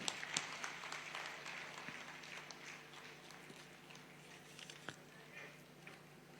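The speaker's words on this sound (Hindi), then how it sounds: "जोरदार तालियों से स्वागत।" Scattered applause from a gathered crowd welcoming guests at a ceremony for a ground-breaking excavation event in Bihar, fairly faint and uneven, with a few sharper claps standing out against a dense patter of hands.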